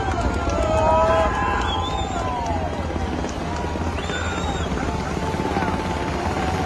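Military helicopters thunder through a clip played back at a large outdoor show, a steady, loud rotor drone with faint whistles and crowd-like noise mixed in, and no pause throughout.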